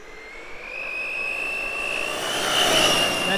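Brushless Traxxas Summit RC truck on Xmaxx tires making a speed pass, a high electric motor whine rising in pitch and growing louder as it approaches over a few seconds.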